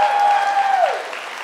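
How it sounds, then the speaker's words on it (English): An audience at a church memorial service applauds and cheers, a dense wash of clapping over a sustained tone that fades toward the end. "Let's give him a cheer."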